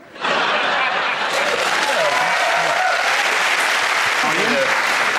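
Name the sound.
studio audience applause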